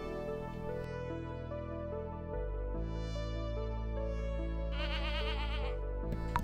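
Bleating goats from Stardew Valley, a few synthesized game-animal calls mixed with continuous game music and chimes, fairly clear and without speech.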